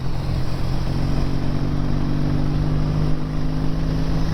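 A 1956 BSA motorcycle rides along with a steady, loud engine drone and low rumble, wind buffeting underneath, continuous throughout with no talking.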